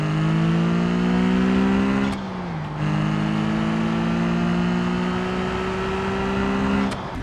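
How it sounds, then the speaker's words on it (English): A custom car engine sound in Automation/BeamNG.drive drones and revs with steady rising and falling pitch, briefly dropping out between runs, loud and close. "now we have two different engine sounds"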